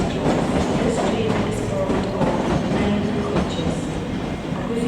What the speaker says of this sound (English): there goes the 1304 Scotrail service to Dun Lane, worked by 385115